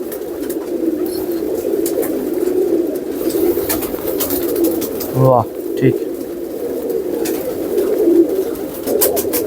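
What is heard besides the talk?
pigeons cooing in light rain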